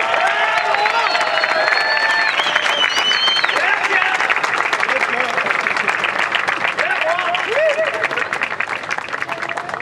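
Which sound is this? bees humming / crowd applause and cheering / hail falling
crowd applause and cheering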